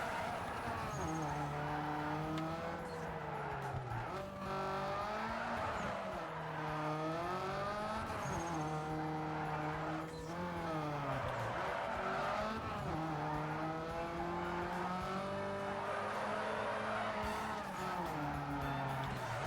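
Need for Speed Underground 2 street car drifting, with a continuous engine roar rising and falling through the gears and long tire squeals running under it, loud and close throughout.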